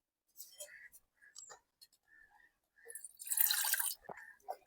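Liquid dripping into tamarind soup in a village kitchen, a few soft, close drips and small splashes among quiet rustles, ending in a short pouring trickle.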